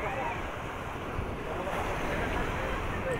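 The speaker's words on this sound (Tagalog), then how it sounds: "Lakas ng alon yan guys." Strong sea waves breaking at the shore by a fish landing in Julugan, Tanza, a continuous rushing roar of surf with wind buffeting the microphone.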